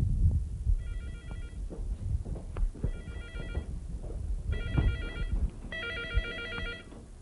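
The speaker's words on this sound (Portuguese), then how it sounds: "Esse é telefone celular, meu." A cell phone rings on a farm in bursts of an electronic ringtone, four repeated trill phrases that grow louder over a steady low rumble of background noise.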